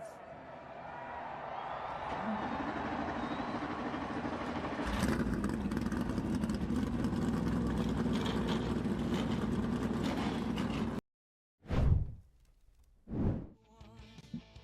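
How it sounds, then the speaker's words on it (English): NASCAR Xfinity Series race car engines fire up for a night race at Atlanta. A dense, loud roar swells in stages under voices, cuts out suddenly, and then two cars sweep past close by. "Gentlemen, start your engines."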